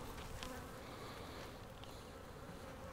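Honey bees buzz steadily and densely throughout a hive inspection, a close, continuous drone with no speech over it.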